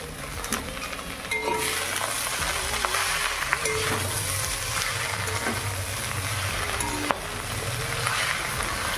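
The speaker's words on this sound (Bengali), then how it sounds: "পেঁয়াজ রসুন লাল লাল করে ভেজে নিয়ে দিয়ে দিলাম কেটে রাখা ফুলকপির পাতাগুলো" Cut cauliflower leaves hit a pan of browned onion and garlic, giving a steady close sizzle with scattered clinks and scraping of a spatula against the pan throughout.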